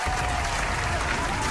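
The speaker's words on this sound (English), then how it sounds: "Nori, clap for that right there." Applause from a small studio audience on a radio talk show, a brief, even burst of clapping that holds steady throughout.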